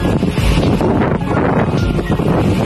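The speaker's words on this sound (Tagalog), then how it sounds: "naririnig nyo ba yung hangin?" Strong Signal No. 8 typhoon wind buffets a Hong Kong apartment building, a loud, continuous roar of gusting air with rustling leaves, steady and close throughout with no break.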